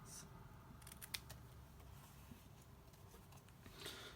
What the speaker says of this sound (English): So I'm just going to grab my paper snips